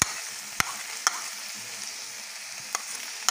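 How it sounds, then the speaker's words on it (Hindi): Chicken mince sautéing with onions, tomatoes and carrots in a pan gives a quiet steady sizzle, punctuated by sharp clicks of a spoon against the pan at irregular intervals. "कीमा हमारा सौते हो गया, अब इसके अंदर हम प्याज ऐड कर रहे हैं।"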